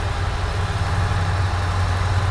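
A Scania V8 truck engine idles in Euro Truck Simulator 2, a steady, deep low rumble held evenly throughout with no voices.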